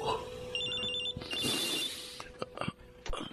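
A cellphone rings in a tense drama scene, sounding a loud, rapidly pulsing electronic trill in bursts, followed by a few sharp knocks and clatters.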